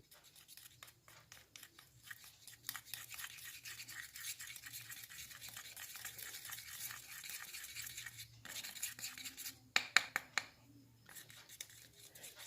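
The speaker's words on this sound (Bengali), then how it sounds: "এবারে সবকটি জিনিসকে খুব সুন্দর করে ধীরে ধীরে একে অন্যের সাথে মিশিয়ে নিতে হবে" Slow, steady stirring and mixing of a homemade foot-cracks paste in a small bowl, a continuous soft scraping and rubbing texture that runs evenly, with a brief sharper clink near the end.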